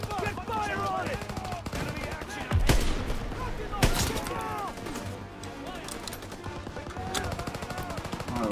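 Rapid World War II gunfire from Call of Duty WWII crackles in bursts and scattered sharp shots, with heavier blasts near three and four seconds, over shouted voices and battle noise.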